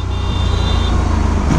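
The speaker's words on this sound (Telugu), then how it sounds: "నాకు ఈ ట్రాఫిక్లో నడపడం కష్టం," Steady road traffic rumble heard from aboard an Aprilia RS 457 motorcycle, a continuous close wash of engine and roadway noise with a faint tone running through it.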